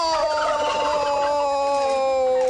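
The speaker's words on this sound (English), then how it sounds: "This is our pardon turkey" A male turkey tom gobbling close by, a dense burst of rapid warbling calls filling the whole moment at steady loudness.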